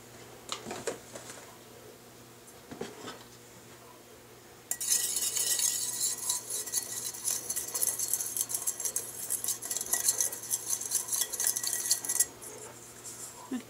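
Soap mixture with glycerin being stirred in a container, a soft scraping and clinking of a utensil that turns louder and steadier partway through, then continues with small irregular knocks.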